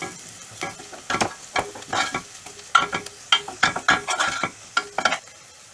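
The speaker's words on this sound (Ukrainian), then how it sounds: "І тепер треба постійно помішувати," Irregular scraping strokes of a spoon stirring flour frying in a hot pan for mushroom gravy, with a faint sizzle beneath.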